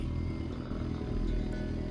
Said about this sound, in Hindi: मनीष ने डर की वजह से बाइक को भगाना शुरू किया